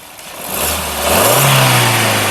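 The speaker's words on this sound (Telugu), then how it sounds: "ఇంజన్ యొక్క నాయిస్ చాలా సైలెంట్గా అయితే ఉందండి" A 2021 Maruti Suzuki S-Cross Zeta engine is revved loudly up close, its smooth hum climbing in pitch and then holding at a steady higher rev.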